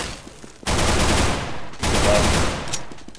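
Sustained automatic M4 rifle fire in the shooter game CS:GO, two long dense bursts close and loud with a short gap between, under the rush of a team match.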